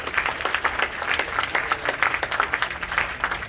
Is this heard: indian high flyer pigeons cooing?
no